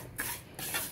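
Vermicelli (semaiya) roasting in a pan: two soft swishes of stirring over a faint, steady sizzling hiss, close and quiet.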